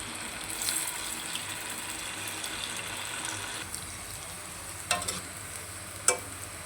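Small balls of cabbage manchurian mixture frying in hot oil, a steady soft sizzle with a few sharper pops and spatters near the end.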